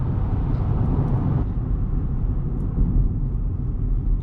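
A 2019 Chevrolet Spark LT accelerates on the road at about half throttle, its steady low engine drone and road rumble filling the cabin without pause and with no voices over it.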